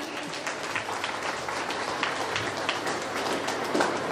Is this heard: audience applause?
yes